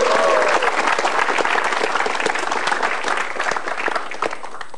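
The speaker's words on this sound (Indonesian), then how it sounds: "Oke, tepuk tangan untuk Papau." A studio audience at a stand-up comedy show gives a dense, loud burst of clapping for a comedian coming on stage, which fades slightly toward the end.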